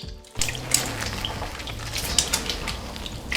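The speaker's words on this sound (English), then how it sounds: "I mix it in, breaking it up with my hands." Sourdough leaven broken up and mixed into water by hand in a bowl, a continuous close sloshing and splashing with small drips and squelches, no talk.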